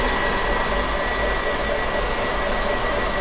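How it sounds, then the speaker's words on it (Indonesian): An electric mixer beats a batter of high- and medium-protein wheat flour, milk powder and cornstarch until thick, giving a loud, steady, unbroken whir with no pauses from start to finish. "Ini di mixer lagi sampai kental."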